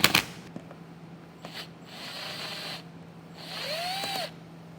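A power drill spins out T15 Torx bolts from a car's fender well, short whirring bursts separated by pauses after a sharp clank at the start.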